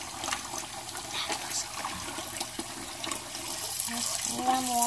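Warm tap water runs steadily into a sink during a small kitten's flea bath, a close, continuous splashing stream with faint voices in the background.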